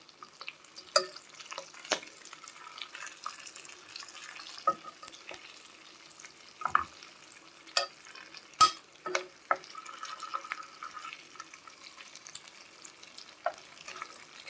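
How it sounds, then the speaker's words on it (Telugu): Fish pieces fry quietly in a pan at home, a soft low sizzle broken by scattered clicks and scrapes of turning and stirring, with a few sharper taps standing out. "చూడండి ఎంత బాగా ఎర్రగా వేగిందో. ఇట్లా బాగా నీట్గా వేగింది."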